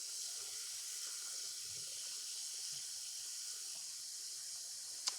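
Cold tap water runs at a kitchen sink into a pot holding six eggs, a steady soft hiss from start to finish with a small knock near the end.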